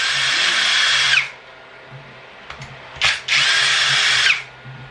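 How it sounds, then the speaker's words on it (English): A power drill whirs in two long bursts removing parts from an RC car, separated by short pauses with a few brief spurts, fairly close. "Power tools are great for taking things out."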